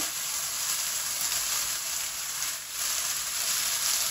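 Potatoes dropped into hot oil with cooked-down vegetables in a pan, a steady loud hiss and crackle of frying that holds evenly throughout, with no talking.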